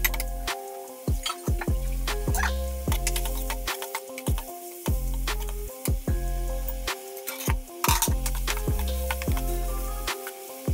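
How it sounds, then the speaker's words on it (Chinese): Tomatoes stir-fried in a wok with soy sauce and vinegar until they turn mushy, heard as a continuous sizzle broken by frequent sharp clanks and scrapes of a metal spatula against the pan, loud and close. "接着下入西红柿，炒到化泥。"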